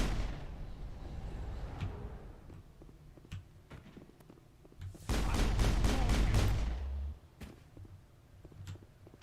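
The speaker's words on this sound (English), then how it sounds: "I can shoot him from up here." Mass Effect gunfire heard as scattered single shots, then a loud rapid burst of automatic fire lasting about two seconds, with isolated shots trailing off afterward and no voice over it.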